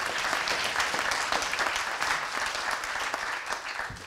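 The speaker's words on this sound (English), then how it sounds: "A round of applause for our speaker." Applause from the audience for a speaker at the close of a Great Decisions talk on China and America, a dense, steady wash of many hands clapping at close range that continues for the full stretch.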